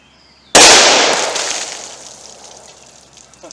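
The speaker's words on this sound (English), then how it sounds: ".357 Magnum through the snub nose." A single loud .357 Magnum shot from a snub-nose revolver, fired at a target of jugs, a baloney pack and particle board, cracks sharply and then rings off in a long fading tail, with no voices.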